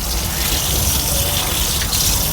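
Steady rushing water poured from a container into an aquarium, continuous and fairly loud throughout with no talking.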